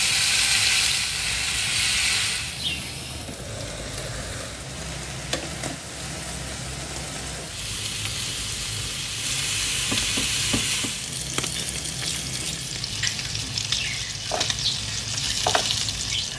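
Shish tawook chicken sizzles and fries in a pan coated with an olive oil sauce, a steady loud hiss with crackling spits and occasional stirring, no voices.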